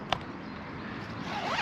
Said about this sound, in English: Zip down the middle.